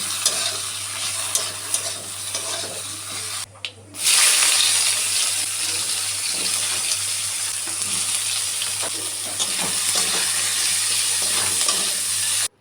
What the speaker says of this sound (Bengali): তেল কিন্তু খুব একটা দিইনি খুবই সামান্য তেলে আর একটু নাড়াচাড়া করে নিচ্ছি